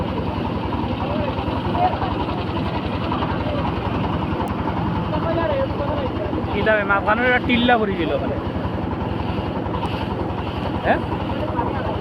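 A boat motor drones steadily on Lala Khal canal in Jaintapur, low and continuous through the whole stretch, with people talking over it and some wind buffeting the microphone.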